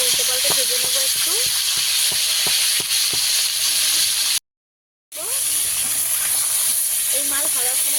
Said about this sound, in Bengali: উল্টে পাল্টে ভেজে নেবো একটু।